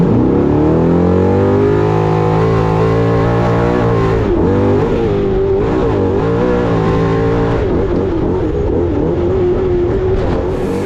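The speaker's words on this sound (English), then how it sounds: "It shows everything that the trophy trucks are capable of doing" Trophy trucks race on the Mint 400 qualifying course, engines loud and close, holding a sustained roar that rises and falls as the revs climb and drop, with no voices.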